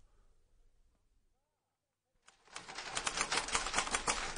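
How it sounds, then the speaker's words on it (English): Typewriter typing in a classic radio drama, rapid dense clatter of keys that starts suddenly after a near-silent pause and continues loudly to the end. "Is that one of the new typewriters?"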